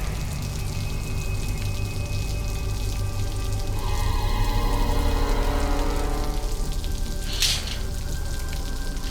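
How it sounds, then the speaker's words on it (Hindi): A sudden downpour of rain hisses steadily and loudly, swelling slightly in the middle, with faint tonal music beneath it and no voices. "अरे ये बारिश भी अचानक।"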